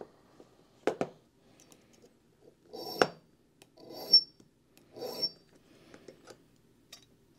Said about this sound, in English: let's do some filing.